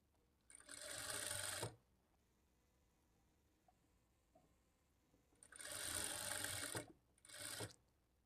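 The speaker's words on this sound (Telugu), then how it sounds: "ఈ మార్కింగ్ మీదనే స్టిచ్ చేసుకోవాలి" A sewing machine stitching the side seam of a blouse, heard in three short close bursts separated by quiet gaps.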